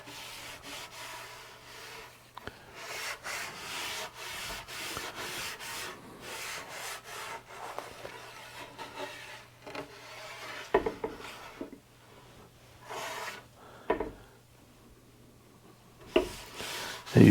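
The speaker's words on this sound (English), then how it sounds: "all I'm going to do is rub it across, and it's a real, just like it sounds, it's a really tacky cloth" Tack cloth rubbed across sanded maple shelf boards to lift leftover sawdust, a series of soft close swishing strokes in uneven bursts, with short pauses and a few light knocks between passes.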